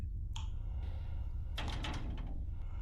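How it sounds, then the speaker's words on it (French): In a video game, a door that won't open rattles and clunks as someone tries it, giving a short knock, then a cluster of louder rattling thuds over a low steady hum. "Ok, donc la porte elle marche pas."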